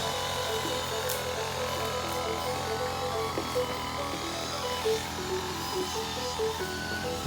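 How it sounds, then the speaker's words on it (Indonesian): Grass cutting machine running on a field being cleared for porang cultivation, giving a steady, faint buzzing whine heard from some distance with no pauses. "itu adalah suara mesin untuk pemotongan rumput"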